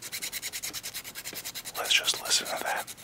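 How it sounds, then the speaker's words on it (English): A 3D printed mechanical pencil barrel is sanded by hand in quick, regular back-and-forth strokes, close and soft, with a few louder scratchy rubs toward the end. "Do you like that sound of sanding?"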